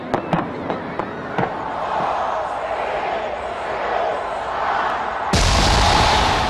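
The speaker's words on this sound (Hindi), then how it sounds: "आतिशबाजी ने स्याह आसमान को रंगों से रोशन कर दिया" Fireworks burst over Auckland's Sky Tower at New Year: a string of sharp cracks and pops ring out above a continuous crowd murmur, then a louder, denser barrage erupts near the end.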